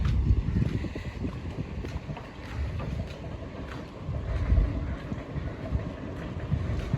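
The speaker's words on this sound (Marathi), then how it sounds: "पटरीच्या बाजूला असल्यामुळे ट्रेनचा आवाज येतो" A train rumbling past on a nearby railway track, outdoors by the line between Dombivli and Thakurli: a continuous low, heavy roar with wind buffeting the microphone, no talking.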